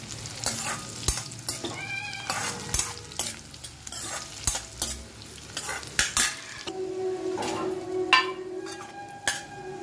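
Cashews and raisins frying in ghee for rava kesari, with a bright sizzle broken by sharp spoon scrapes and metallic clinks against the pan, close and fairly loud.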